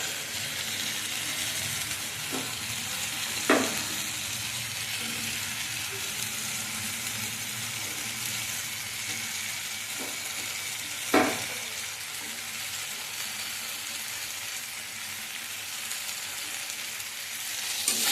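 Potatoes and spices sautéing in oil, a continuous moderate sizzle and hiss close up, broken by a couple of distinct spoon scrapes and knocks against the pan, no speech over it.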